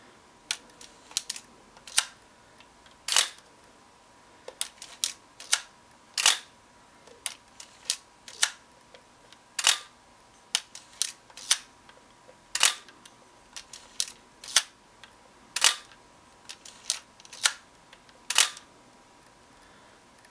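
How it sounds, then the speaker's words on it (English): A Minolta X-700 film camera fires its shutter and advances the film again and again, giving a steady run of crisp mechanical clicks and short winding whirs about once a second, close and clear, with no talking. "show you guys that the frame counter does advance"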